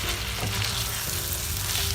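Rice sizzles steadily as it is stirred and fried in a pan for a chicken breast pilaf, a continuous close frying crackle with soft stirring scrapes and no talking.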